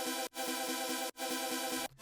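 Wavetable synth chords with classic unison detuning, bright and dense with a phasey shimmer, sounding as repeated sustained stabs with short gaps and no talking.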